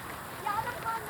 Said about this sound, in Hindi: बारिश और तेज